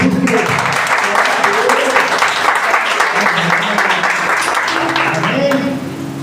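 A church congregation at a Sunday service claps for Jesus in a sustained, loud round of applause, with voices calling out over it before it thins near the end.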